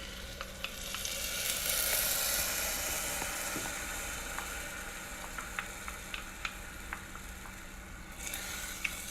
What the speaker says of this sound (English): We're gonna add the rice wine vinegar and the honey into the mix.